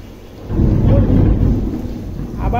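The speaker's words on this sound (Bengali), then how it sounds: "নিশ্চয়ই আপনারাও শুনতে পাচ্ছেন মেঘের গর্জন ধ্বনি।" Deep, rolling thunder rumbles through a rainstorm, swelling loud after a quieter opening and holding steady over a hiss of rain, with a brief voice-like tone near the end.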